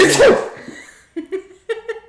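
A single sharp sneeze bursts out at the start and trails off, followed by short voiced sounds like brief chuckles or murmurs.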